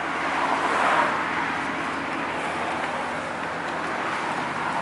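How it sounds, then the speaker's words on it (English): A 2016 Chevrolet Camaro SS on the road, its broad steady engine and road roar heard from inside the cabin, continuous and moderately loud with no talking. "about to let me drive the Camaro"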